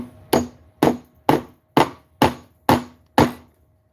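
Seven sharp hammer blows drive a protruding nail flat, struck at a steady pace about half a second apart, close and loud with nothing else heard.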